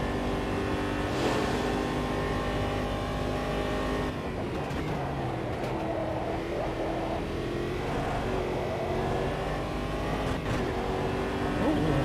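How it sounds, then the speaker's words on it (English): A prototype race car in a sim racing game screams at high revs through corners, its pitch shifting with repeated gear changes and harsh buzzing near the rev limiter, continuous and close. "Keep hitting the rev limiter."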